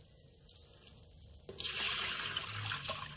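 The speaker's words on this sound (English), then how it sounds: "I will add water" Water poured into an Instant Pot holding melted butter for sweet rice, starting as a soft trickle and then turning into a louder, steady rushing splash close by.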